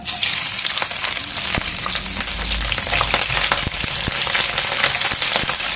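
Green chillies fry in hot groundnut oil for a fish curry, a dense, loud, continuous crackling sizzle with sharp pops throughout.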